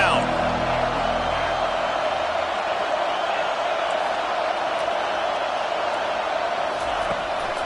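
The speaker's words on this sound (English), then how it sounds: "Decibels rising as the crowd gets behind this defense on third down." A stadium crowd in a college football video game roars on third down, a loud, steady wash of cheering that stays constant throughout.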